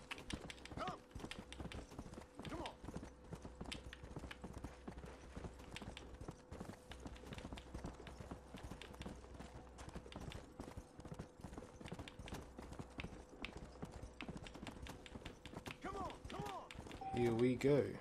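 Horse hooves gallop steadily in a rapid clip-clop rhythm throughout the undead-themed western game Red Dead Redemption: Undead Nightmare, mixed under game sound and a low droning tone, with a brief louder burst near the end.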